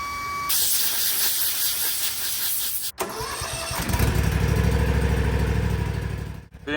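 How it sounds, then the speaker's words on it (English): A running lawnmower engine with its air filter removed takes a loud, steady hiss of fogging oil spray into the air intake, then the engine note roughens and surges before cutting briefly. "Spray fogging oil into air intake of a running engine for 10 seconds."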